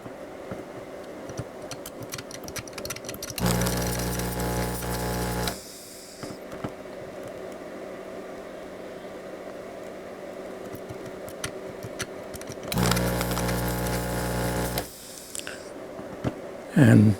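Two bursts of a powered desoldering tool's pump sucking solder from IC socket pins on an arcade circuit board, each a few seconds of loud whirring suction, separated by quieter clicking and handling noises.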